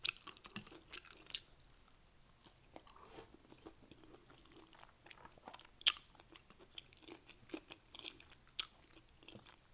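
Crunchy Doritos nacho chips being bitten and chewed close up, with quiet, irregular crackles and crunches scattered over about ten seconds and no talking.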